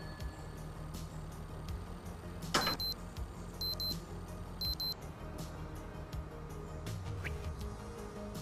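A wristwatch in the VR game Arcade Paradise VR gives a few short, high electronic beeps in quick pairs over a low background hum with occasional clicks.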